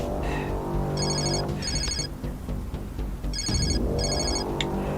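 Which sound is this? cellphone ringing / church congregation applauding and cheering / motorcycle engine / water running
cellphone ringing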